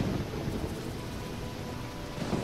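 A thunderstorm in the Risen video game: a steady wash of heavy rain with a deep, rolling rumble of thunder underneath, continuous and fairly loud throughout.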